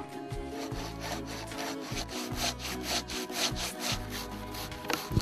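A sharpened Fiskars hand saw cuts through wood in steady back-and-forth strokes, each rasping pass loud and close, repeating rhythmically without pause.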